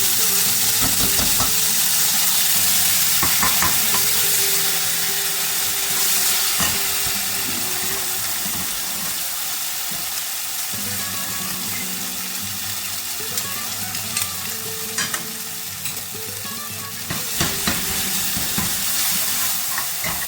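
Tomato and onion puree fries in hot oil with cumin, a long continuous hissing sizzle with occasional stirring scrapes and crackles, close and steady.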